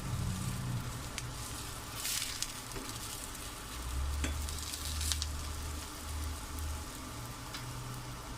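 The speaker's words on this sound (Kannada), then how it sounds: "ಗೋಲ್ಡನ್ ಕಲರ್ ಬರೋಕ್ಕೂ ನಾವು ಫ್ರೈ ಮಾಡ್ಕೋಬೇಕು ಎರಡು ಸೈಡು" Ragi roti frying in a little oil on a pan, giving a soft, steady sizzle with occasional light scraping, fairly quiet and without speech.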